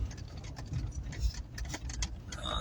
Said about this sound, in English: Sorry about the phone rattling like that